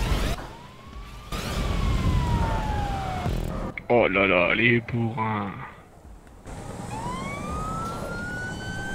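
A wailing, rising-and-falling ambulance siren from the video game GTA 5 sweeps through, fairly loud, with engine and game noise around it and players talking over parts of it.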